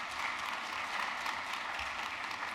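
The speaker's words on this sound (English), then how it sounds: "he deserves all the applause" Audience applause fills the hall at an Honors College induction and recognition ceremony, a steady, even wash of clapping that sounds somewhat distant and soft, with no voices over it.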